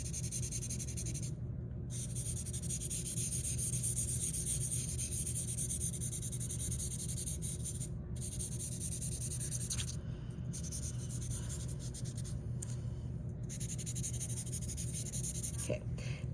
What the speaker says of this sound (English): I'm gonna rub it kind of in a circle, getting it into the paper